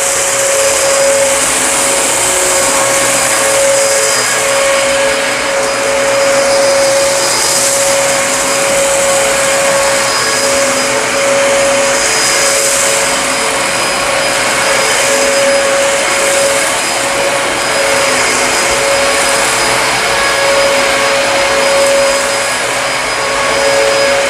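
A stick vacuum cleaner with its brush roll running pulls pet hair from carpet, giving a loud, unbroken motor whine with a steady high tone and rushing air for over twenty seconds, with no speech.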